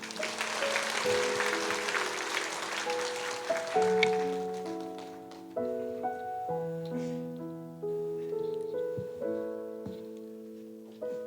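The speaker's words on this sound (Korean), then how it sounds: "박수해 주십시오." Congregation applause during an infant baptism service at a Korean church, a brief burst of clapping for about four seconds that gives way to soft, sustained piano-like notes playing on alone.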